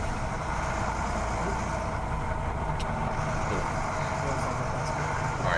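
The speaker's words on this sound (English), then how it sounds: "I found the perfect sound for your truck." A truck engine sound effect for a bus rumbles at a steady low idle, loud and continuous, with faint voices now and then beneath it.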